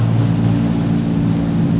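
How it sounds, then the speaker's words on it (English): Motorboats coming into Oregon Inlet give a steady, low engine drone that holds evenly throughout, fairly loud and continuous, with no voices. "All the boats coming in."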